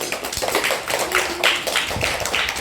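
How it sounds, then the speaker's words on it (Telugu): Children in a classroom clapping their hands together, a quick run of light, uneven claps repeating steadily at close range with no talk. "క్లాప్స్ కొట్టండి అమ్మా"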